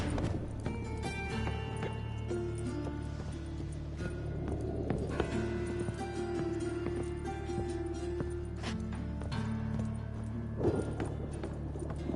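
Horse hooves clip-clopping at a steady run in The Witcher 3 on PS4, continuous and fairly close, set against game music and ambient sound, with an occasional faint whinny.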